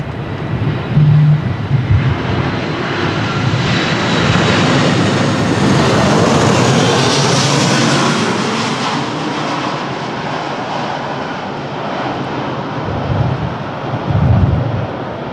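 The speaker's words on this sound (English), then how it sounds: "in Crosswind you are watching the Volotea, the Airbus A320-200 from Nantes" A Volotea Airbus A320-200 jet approaching in a strong crosswind at an airport, with a broad engine roar swelling and fading, wind buffeting and low thumps near the start and end.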